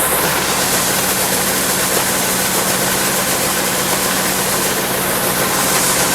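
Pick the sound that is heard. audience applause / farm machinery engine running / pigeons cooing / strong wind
farm machinery engine running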